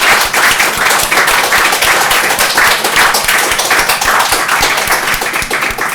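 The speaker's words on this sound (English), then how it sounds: "Please give them a round of applause and thank you" Audience applause for a panel of four at an Institute of Physics event, dense and steady clapping from many hands, loud and sustained throughout with no voices over it.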